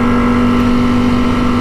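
A Ducati V4S Full Carbon motorcycle engine holds a loud, steady, close-up drone with a strong even tone and no break or pause throughout.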